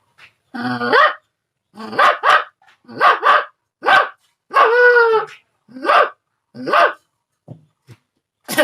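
A man imitates a village dog barking: about nine short, harsh yelping barks in uneven bursts, close and loud, with no other sound between them.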